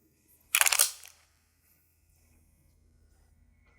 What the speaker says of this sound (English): Quick mag change here.